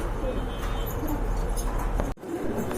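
Pigeons in a seller's lofts give soft, low coos over a constant busy background hum, with voices mixed in and a sudden brief drop in the noise near the end.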